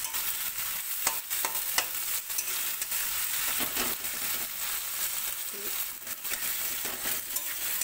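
Chopped onion and tomato sizzling in a pan for mutton curry, a steady fry with repeated scraping strokes of a spatula stirring against the pan.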